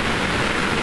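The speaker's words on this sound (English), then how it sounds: "Well, the rain hasn't subsided." Steady rain drumming on a sailing boat's rain cover, a dense, even hiss with no break, close and fairly loud.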